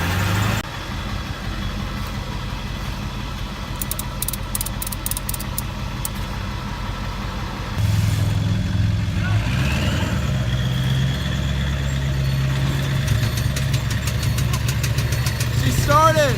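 A car with rod knock fires up after a tow pop start and settles into a rough, steady idle, the engine rumbling close by while people talk over it.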